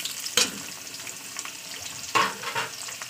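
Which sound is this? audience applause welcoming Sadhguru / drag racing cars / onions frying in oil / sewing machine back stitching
onions frying in oil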